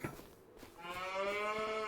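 Beef cattle in Farming Simulator 25 let out a single long, loud moo that starts about a third of the way in and holds steady to the end, after a stretch of quieter ambient game sound.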